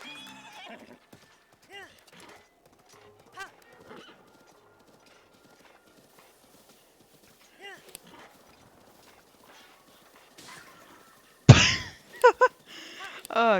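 Hooves clip-clop faintly and a horse whinnies loudly near the end in the video game The Legend of Zelda: Breath of the Wild, with soft game ambience between.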